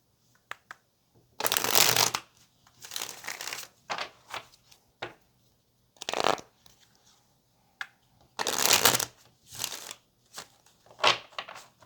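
Cards being shuffled close up in repeated crisp riffling bursts separated by short pauses, with no talking.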